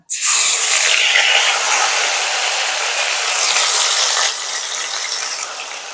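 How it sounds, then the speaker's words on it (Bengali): Onion paste hitting hot oil in a pan while cooking Bengali doi katla, a loud, steady hiss that bursts in at once and holds for several seconds before easing slightly, with no talking. "এবার আমি পেঁয়াজ বাটাটা দিয়ে দিচ্ছি।"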